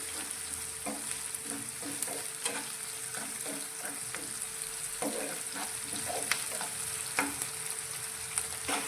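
Green onion tops sautéing over a high flame for a Gujarati green onion curry, a steady close sizzle broken by a dozen or so light, irregular clicks of a spoon stirring against the pan.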